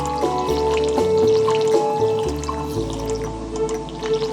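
Crops are watered in the video game Stardew Valley, making light drips and soft splashes that repeat over steady background game music.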